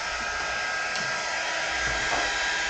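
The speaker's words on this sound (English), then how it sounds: "I'm gonna turn the heat gun on real quick." Heat gun blowing steadily in a craft setting, a continuous airy whoosh heard close and alone for a few seconds.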